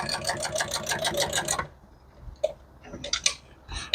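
An industrial sewing machine stitches upholstery in a fast, even rattle for about a second and a half, then stops, leaving a few faint clicks and handling noises.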